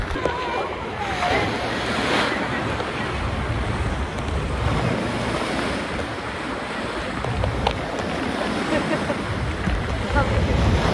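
Rough ocean surf off Phuket crashing and rolling continuously, loud and close, with wind buffeting the microphone throughout.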